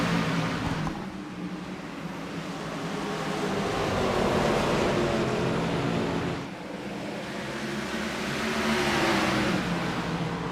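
Race cars in the iRacing simulator accelerate together on a green-flag restart at a North Carolina track, a loud, rushing roar of engines swelling, dipping briefly, then building again with no talk.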